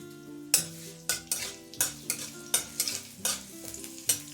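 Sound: chopped garlic frying in mustard oil in a kadai

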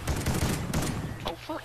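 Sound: gunfire in the video game Call of Duty

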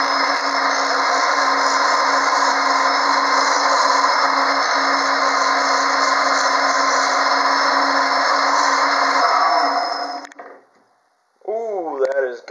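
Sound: wood lathe turning a cocobolo pen blank

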